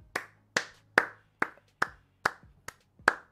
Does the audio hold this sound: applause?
yes